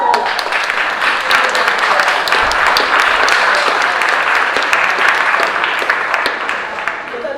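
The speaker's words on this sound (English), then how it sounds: "I just want to give a hand clap to the young people" A crowd at a Baldwin recall event in Chavis Park applauds the young people, a dense, loud wash of clapping that holds steady and then fades slightly toward the end.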